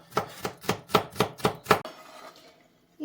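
A knife chops a seeded pepper finely on a board for an eggplant dish, with seven quick, evenly spaced thuds followed by silence.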